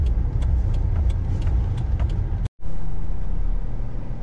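A car driving slowly through festival streets in Tayabas City and turning toward a park for parking, heard from inside as a steady low engine and road rumble, with one brief dropout midway.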